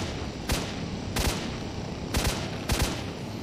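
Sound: zombies shooting guns in S.T.A.L.K.E.R.: Shadow of Chernobyl video game

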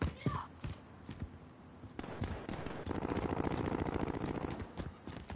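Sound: gunshots, from a video game

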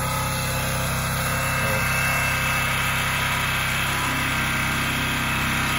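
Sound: generator running and demolition hammer chiselling concrete

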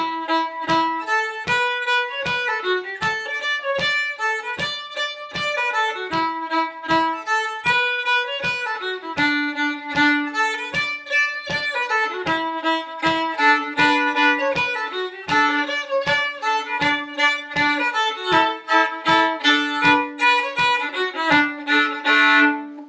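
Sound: fiddle playing a tune with shuffle bowing pattern

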